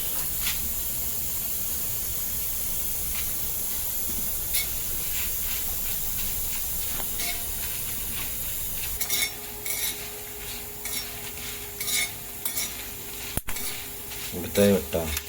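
Sankeshwari chillies roasting in a pan with a soft hiss that turns into scattered crackles and sharp pops as the seeds burst, growing louder toward the end; someone talks quietly at times.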